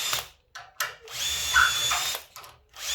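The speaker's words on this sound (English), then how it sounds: "I've got a self-centering pilot drill bit here." A power drill with a self-centering pilot bit bores hinge screw holes for 100mm butt hinges, giving several short whirring bursts with pauses between them, close and fairly loud, with no talking.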